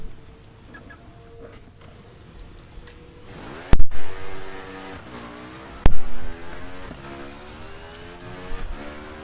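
A KTM 450 EXC motorcycle engine in the racing game The Crew revs up hard, with two gear-shift bursts and rising whines climbing one after another, loud and close, and no speech.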